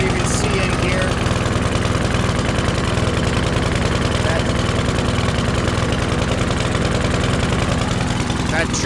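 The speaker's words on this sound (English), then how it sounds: "That choke lever is completely closed, and that's why this thing is running really rich." A Cub Cadet lawn mower engine runs rich with its choke lever stuck fully closed, a loud, steady close-up putter that keeps on without a break throughout.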